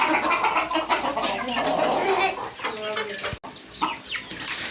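Tiger-coloured hens cluck busily at close range while one hen pecks at the others, a dense jumble of fowl noise with a brief sharp knock midway.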